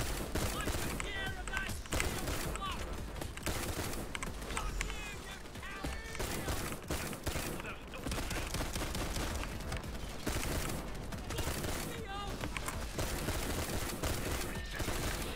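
Full-auto shotgun blasts in a shooter video game, busy repeated bursts of gunfire mixed with game noise and footsteps throughout, with a player talking over it.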